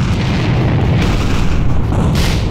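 A grenade explodes in the AVA shooter video game, producing one loud, sustained, rumbling boom that fills the whole moment with no voices over it.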